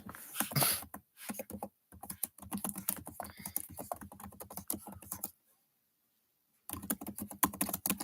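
Rapid typing on a computer keyboard, close and fairly loud, with bursts of clicks broken by a pause and an abrupt cut to silence before the keystrokes resume.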